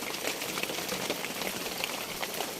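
Heavy storm rain falls on a countryside farm hut in the forest, a constant dense wash of patter with occasional louder drops striking nearby surfaces.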